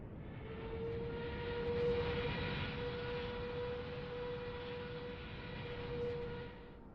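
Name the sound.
airplane taking off in video game Microsoft Flight Simulator 2020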